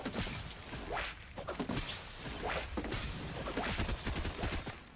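Rapid gunshots in Fortnite, Chapter 4: a string of close, sharp cracks fired in quick irregular bursts through the whole stretch, loud and with no talking.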